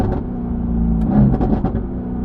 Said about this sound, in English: I'm currently driving an AMG GTR.